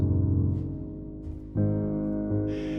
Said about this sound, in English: Then we just shortly release the pedal to dampen the sound like this.